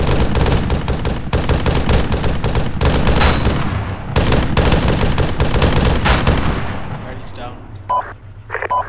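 Sustained gunfire in an Arma 3 battle: loud, rapid automatic bursts repeat close by for most of the stretch, then thin out toward the end, with voices talking over the shooting.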